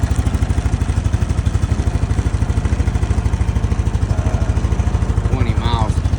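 2025 Honda Rancher 420 ATV idling after a cold start in 15–26°F weather, a steady, even, rapid thumping putter close by, with a voice talking briefly near the end.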